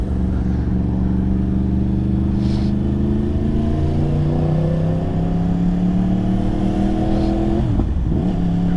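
A small motorcycle engine revs repeatedly, pitch rising and falling in steady drones, loud and close, with a sharp drop near the end.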